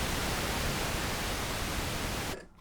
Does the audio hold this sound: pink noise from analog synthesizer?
yes